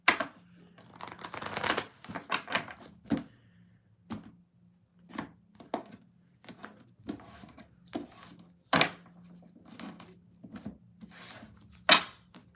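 A deck of clarifier cards is shuffled by hand at close range during a card reading, with quick papery riffles and bursts at first, then a run of sparse soft taps and flicks, with no voices.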